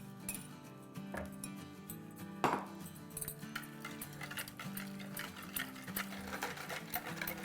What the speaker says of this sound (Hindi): और हम इसको अच्छे से विस्क कर लेंगे।